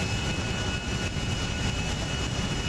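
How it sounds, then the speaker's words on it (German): Airplane engine from GTA 5, a dense, continuous roar with a thin steady whine, loud and unbroken throughout, heard alone without talk. "Das Flugzeug, das fliegt so schnell in die Luft."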